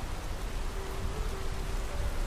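Steady rain hisses evenly throughout a track from the Ultrakill soundtrack, with a faint low tone underneath.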